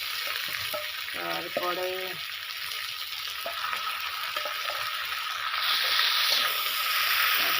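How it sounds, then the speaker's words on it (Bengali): Ground spice paste with ginger and onion fries in a pan, a steady close sizzle running throughout and growing slightly brighter near the end, with a short spoken word early on. "একটু নেড়ে নেবো, ভাজি নেবো, মশলাটা একটু ভাজি নেবো"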